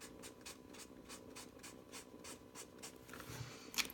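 Alcohol marker colouring over gesso on paper, a soft rhythmic scratching of repeated back-and-forth strokes, close and faint, with a brief rustle at the end.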